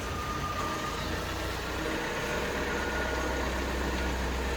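A car engine idles and rumbles low and steady as the car is brought out, faint and continuous with no voices.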